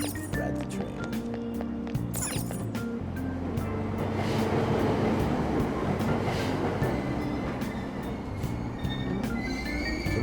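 A train ride in Persona 5 fills the scene with a continuous loud rumble of rolling carriages, with bright metallic squeals and clatters cutting through now and then.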